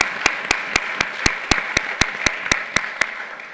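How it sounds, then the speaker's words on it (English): Audience applause closes an evening forum for young professionals, a steady bed of clapping cut by sharp, evenly spaced claps that repeat about four times a second throughout. "so please give them a round of applause."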